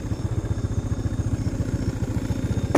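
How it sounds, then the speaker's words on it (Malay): Motorcycle engine idling close by at night on a mountain road, a steady rapid low-pitched pulsing throb with no voices. "Sekejap saya matikan enjin."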